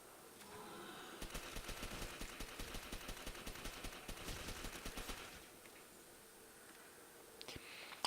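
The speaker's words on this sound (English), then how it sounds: "I'm tap shooting my shots to make sure I'm getting the most out of them." Quick, evenly spaced single gunshots fire in a steady tapping rhythm for about four seconds in Call of Duty World at War Zombies on Nacht der Untoten, then the shooting stops, leaving faint background noise.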